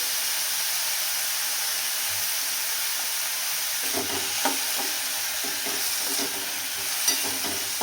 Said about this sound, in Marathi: एकदा आपल्याला छान मिक्स करून घ्यायचं